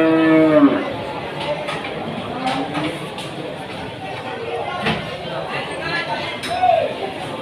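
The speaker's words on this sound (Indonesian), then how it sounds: "Juga ini ada pengangkutan sapi, 2 ekor, sapi lemot." Cattle at a livestock market moo in long, loud calls at the start and again near the end, while people chatter around them amid general market bustle.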